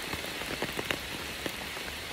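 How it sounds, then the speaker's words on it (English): Rain falls on a forest hiking trail, a soft steady patter of scattered drops landing on leaves and ground, fairly quiet and close, with no voices. "It's raining. It's raining pretty good."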